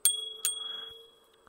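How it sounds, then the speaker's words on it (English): A small add-on bicycle bell mounted on a Xiaomi Mi Pro 2 electric scooter is struck twice in quick succession, each ring bright and close, then left to decay with a lingering shimmer. "I do have a nice little bell."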